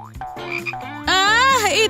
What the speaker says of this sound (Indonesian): Dia memberikan aku katak.